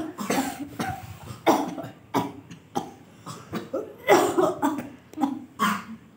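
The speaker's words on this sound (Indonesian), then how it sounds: "Jangan ditahan, ayo batukan, keluarkan." A child coughs repeatedly in a short bout of forceful coughs and throat-clearing sounds, close up, with brief gaps between each cough.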